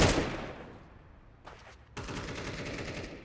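Pistol gunfire in a Counter-Strike match on the Mirage map: a burst of shots at the start fading out, then after a short gap more rapid shots in a sustained, moderately loud run.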